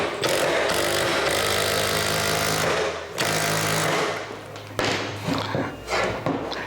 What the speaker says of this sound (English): let's give it a try and see if there's much of a difference